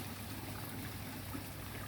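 Water pours steadily over a water-curtain feature, driven by a WP 2550 pump, into a fiberglass pond, making a continuous soft splashing trickle, even and unbroken, heard close without speech.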